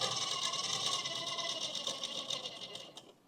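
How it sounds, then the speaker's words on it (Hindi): Close by, a sewing machine stitches the side slit of a kurta, giving a fast, steady mechanical whirr with rapid needle ticks that slows toward the end, with no talking. "फोल्ड करने के बाद ये हम ऐसे सिलाई चलाएंगे, देखिए"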